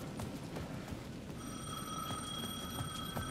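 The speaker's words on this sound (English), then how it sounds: "The payphone at the edge of the plaza was ringing again." Payphone ringing in Alan Wake II, a steady electronic trill that starts partway through and holds as a thin ringing tone over quiet ambient background and soft footsteps.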